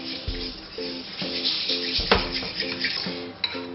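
A utensil scrapes and knocks against a bowl as unsweetened chestnut purée is mixed for pumpkin cupcakes, a close rhythmic series of clinks and scrapes with no talk.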